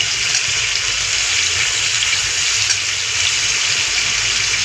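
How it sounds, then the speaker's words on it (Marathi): Potatoes, cut into small pieces for sabudana khichdi, washed under running tap water in a kitchen, a steady close gush of water that continues evenly throughout with no talking. "स्वच्छ पाण्याने धुवून घेतलं."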